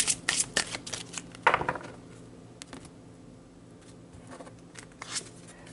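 Tarot cards are shuffled and drawn by hand: quick crisp riffling bursts close up for about two seconds, then quieter soft slides and taps as a card is pulled.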